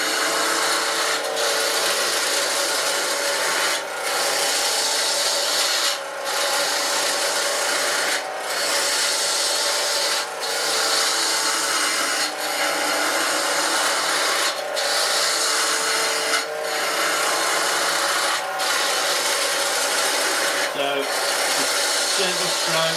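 A lathe tool shaves a spinning walnut pen blank, giving a steady loud raspy scraping hiss with faint periodic dips, close-up and continuous.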